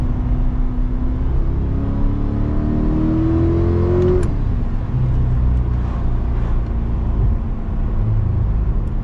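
A 2023 Chevrolet C8 Corvette in sport mode pulls hard from inside the cabin, its engine note climbing steadily in pitch for about four seconds before a shift drops it into a lower, loud rumbling drone.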